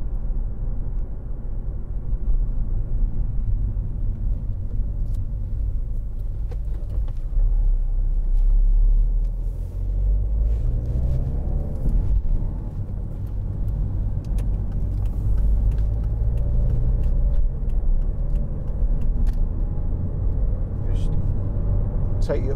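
A 2011 Volvo V50 1.6 D2 R-Design estate driven along a motorway gives a steady low interior engine and road rumble that rises slightly mid-drive, with someone talking over it throughout.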